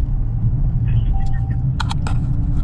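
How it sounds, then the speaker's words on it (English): Car engines and exhaust rumble steadily at Yellow Belly Drag Strip, a low continuous drone close by, with a few sharp clicks and taps on top and a voice talking over it. "I know y'all hear a lot of tailpipes and motors. I'm over at Yellow Belly Drag Strip."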